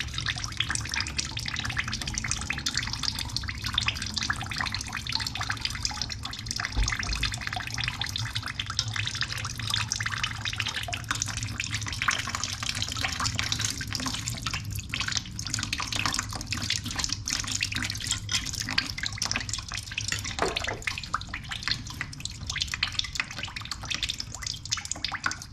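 Water draining out of a car engine block at a freeze plug opening, a continuous splashing trickle with irregular drips, steady and close throughout with no talking.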